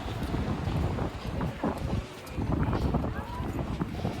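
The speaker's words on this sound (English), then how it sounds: "As you can hear, it was a little bit windy. Well, it was very windy," Strong gusty wind on the Brighton sea wall, roaring steadily into the microphone with rumbling buffets that swell and ease, and speech faintly mixed in.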